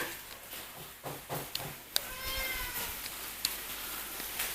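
A house cat meows indoors, a few drawn-out cries with small clatters and household noises around them, moderately close and fairly quiet.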